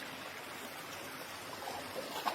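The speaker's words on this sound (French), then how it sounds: "la mini cascade des Tuches, l'appellera-t-on" A mini waterfall trickles inside a vaulted cave, giving a steady, close wash of running water with no talking.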